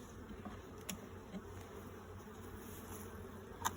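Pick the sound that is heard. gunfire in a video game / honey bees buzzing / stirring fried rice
honey bees buzzing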